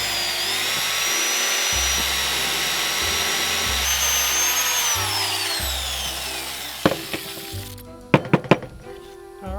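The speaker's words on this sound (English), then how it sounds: "All right, we got our power drill now, electric drill." An electric power drill fitted with a spade bit bores into wood for a homemade Christmas tree stand, a loud steady whine that speeds up and slows in bursts, ending with a few sharp knocks.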